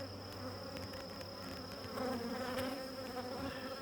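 Honeybees buzz around an open hive being tended, a steady close drone with a sustained high hum and occasional louder passes of individual bees, no speech.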